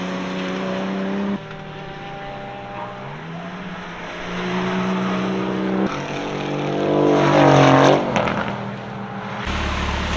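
An AMG car races past on the Summit Point Motorsports Park circuit during a track day, its engine note rising and falling with shifting harmonics as it approaches close to the barriers, then fades while other cars drone on.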